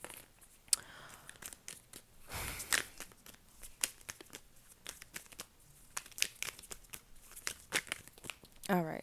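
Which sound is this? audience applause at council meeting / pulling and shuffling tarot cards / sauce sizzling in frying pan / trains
pulling and shuffling tarot cards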